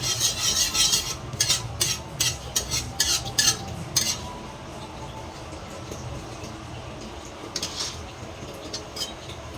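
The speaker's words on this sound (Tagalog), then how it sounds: "Gigisa po muna natin yung dulong natin" Tiny dulong fish are sautéed adobo-style in a pan, a utensil scraping and stirring in quick, rhythmic bursts at first, then settling into softer, sparser strokes over a faint background.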